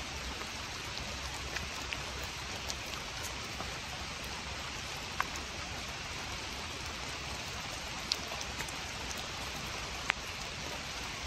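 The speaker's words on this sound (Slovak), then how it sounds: "Hovorím, stále prší" Steady rain falls through a summer forest, a dense even patter with occasional sharper drops landing nearby, continuous and alone with no voices.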